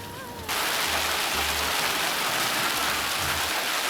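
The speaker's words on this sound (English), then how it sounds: "it's raining really hard. And not only is it raining, it's also hailing." Heavy rain mixed with hail pounds down in a dense, loud hiss that starts abruptly and then holds steady, with low rumbling thuds underneath, while trekking in India or Nepal.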